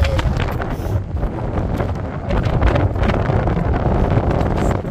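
Wind buffets the microphone in a steady low roar, blowing from behind during a trail run on Belle-Île, growing slightly stronger halfway through. No voices are heard.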